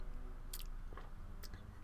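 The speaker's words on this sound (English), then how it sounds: "Sorry, tea sipping ASMR." Two short, quiet slurping sips of tea, about a second apart, over a soft background hum.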